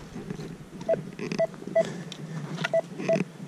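Metal detector used outdoors while digging for finds, giving a string of short electronic beeps at irregular intervals over faint rustling and handling noise.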